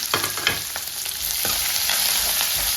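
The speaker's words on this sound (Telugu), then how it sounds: "ఇప్పుడు ఆనియన్, పచ్చిమిర్చి, కరివేపాకు దీంట్లో వేసేసుకుందాం." Steady sizzling of onions, green chilies and curry leaves frying in hot oil, with a few stirring scrapes early on; close and continuous.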